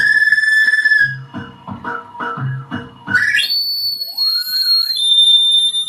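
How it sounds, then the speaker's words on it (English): Monomaniacal Reincarnator feedback looper pedal with a synth wah engaged, a shrill whistling tone that turns into pulsing wah-filtered stabs, then swells into a rising, piercing feedback squeal that sustains loudly to the end. "Now I'm going to turn the Monomaniacal Reincarnator on."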